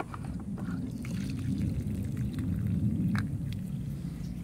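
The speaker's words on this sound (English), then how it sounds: "Now what we're gonna do is get all the vinegar out." Vinegar is poured out of an Intex pool saltwater system cell after cleaning, a continuous low gurgling splash with faint sloshing and dripping, moderately close and steady throughout, no talking.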